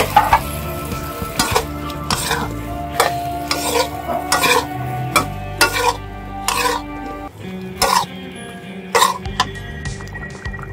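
Fish and bottle gourd sizzle in a pan while a utensil scrapes and clatters in repeated strokes, loud and close, with a cough or throat clearing in between.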